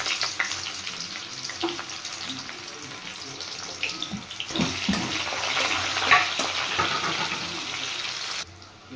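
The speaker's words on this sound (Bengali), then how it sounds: "এবার কুচিয়ে রাখা পেঁয়াজ দিয়ে দেবো।" Chopped onions hit hot oil in a wok while cooking a kabuli chana and paneer dish, a steady broadband sizzle and crackle that swells and stays loud to the end, with no talk over it.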